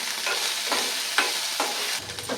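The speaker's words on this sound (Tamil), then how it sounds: "வெண்டைக்காய் நல்லா கொஞ்சம் வதங்கி வரட்டும்" Chopped okra and curry leaves sautéing in a pan, an even sizzle broken by several soft spatula strokes at regular intervals.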